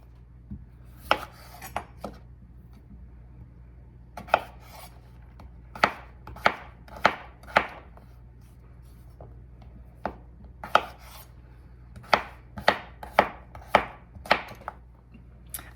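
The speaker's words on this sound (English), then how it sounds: "I need to get my potatoes diced" Knife dicing potatoes into cubes on a cutting board, a steady run of sharp, close chops in uneven bursts with short pauses, no talking.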